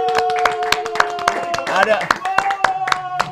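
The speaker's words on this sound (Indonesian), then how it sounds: "Tepuk tangan yang paling meriah dong untuk stand up comedian di Indonesia Lampung." Scattered claps from an audience at a stand-up comedy show in Lampung, Indonesia, sparse and uneven, mixed with someone talking and tonal background sounds.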